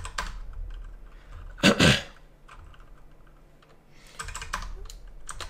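Keys clatter on a computer keyboard in short bursts of typing, with a louder cluster of strokes near the start and another run toward the end, close and clear.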